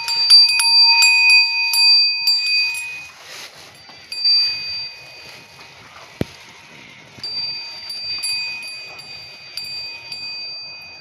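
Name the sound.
bells ringing on a bull's neck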